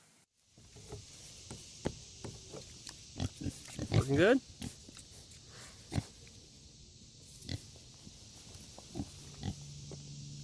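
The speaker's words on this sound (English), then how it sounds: "So here are the 4 little pigs that are going to be using that pig water." Four small pigs grunt and oink in short bursts near a hose-filled pig waterer, with clattering knocks and footsteps around them and a person speaking briefly.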